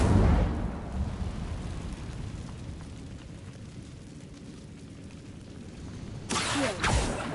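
An Incendio fire spell is cast in Hogwarts Legacy: a roaring whoosh of flame at the start fades into a low, rumbling bed, and a second fiery burst flares up near the end.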